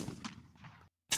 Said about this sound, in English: They have gunshots in it?